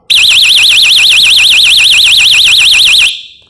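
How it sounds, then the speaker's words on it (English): Built-in alarm of a stun baton blaring nonstop at close range, a loud piercing warbling siren that rises and falls rapidly and evenly for about three seconds before cutting off. "Now the next thing is the alarm."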